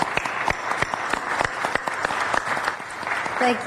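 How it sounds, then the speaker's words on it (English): People in city council chambers applaud a campaign organizer, with loud, sharp, scattered individual hand claps forming a steady round of clapping that carries on alone. "Let's give her a round of applause for the work that she does."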